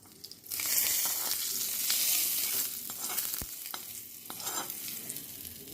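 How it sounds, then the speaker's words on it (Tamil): A hot tempering of cumin, asafoetida and curry leaves hits green onion chutney with a loud hissing sizzle that settles into steady crackling as it is stirred in, close and alone. "தாளிப்பு நம்ம சட்னியில் விட்டுலாம்."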